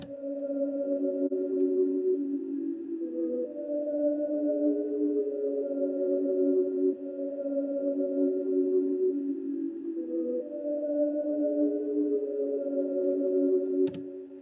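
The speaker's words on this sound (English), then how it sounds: "kind of this background ambient melody" Soft sustained synth pad chords drift slowly through a looping progression in FL Studio, steady and mellow, with no voices, a background layer for a hard piano beat.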